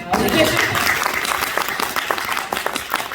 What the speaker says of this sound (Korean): 제가 너무 미안하지 않게 박수 한번 주세요.